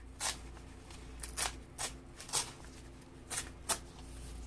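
Pages of an antique photo album being torn, a series of about six short, crisp ripping strokes spaced irregularly, quiet and close with no talking.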